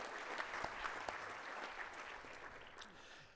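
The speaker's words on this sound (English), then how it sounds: "So let's give all these folks a round of applause," Steady applause from a crowd at a 4-H livestock judging awards ceremony, a soft continuous rain of clapping heard from a distance that tapers slightly near the end.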